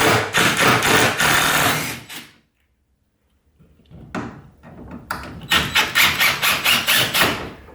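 A power drill backs screws out of a sliding cavity pocket door in two loud whirring bursts, the first about two seconds long, then a silent pause, then a stuttering second run with rhythmic pulses.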